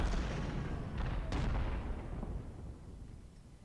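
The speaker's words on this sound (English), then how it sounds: "We can see our cannons are starting to open up on them, our ineffectual 6-pounders" Six-pounder cannons in Ultimate General: Civil War booming in a low rumbling volley, a couple of sharper reports standing out before the roar fades away.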